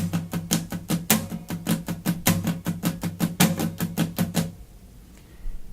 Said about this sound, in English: To each of those beats goes a down strum and an up strum